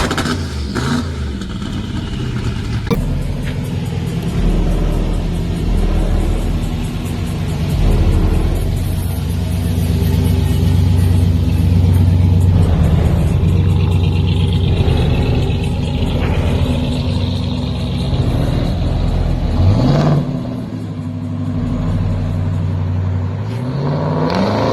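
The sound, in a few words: classic car engine with straight-back exhaust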